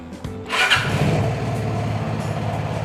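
A Vespa S125 scooter is started with its electric starter: a brief whirring crank, then the small engine catches and settles into a steady, moderately loud idle close by.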